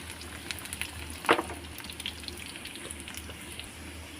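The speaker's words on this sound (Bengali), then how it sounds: "এগুলো একটু নেড়ে চেড়ে ভেজে নেবো" Cream roll pieces fry in hot oil while being stirred, giving a steady quiet sizzle with one sharper clatter of stirring partway through.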